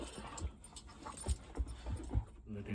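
Dogs in a home make quiet sounds, soft thumps, shuffling and faint panting, heard at low level without talk.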